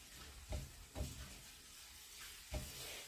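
Tomato sauce hisses and sizzles steadily as it hits a frying pan of browned food, with a few soft thumps or stirring bumps breaking through the low, quiet crackle.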